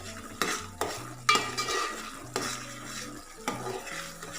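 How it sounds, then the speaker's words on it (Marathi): Raw tomato paste sautéed in hot oil for a Malvani-style prawn curry, a spoon scraping and stirring the pan in irregular strokes with a few sharp clinks over a soft sizzle, no voices. "ती आता तेलात चांगली परतून घ्यायची आहे"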